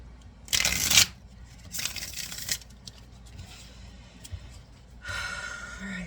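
A large tarot deck is riffled and shuffled in three separate bursts of quick fluttering card noise. The first is the loudest, a second follows about a second later, and a softer one comes near the end, with quiet pauses in between.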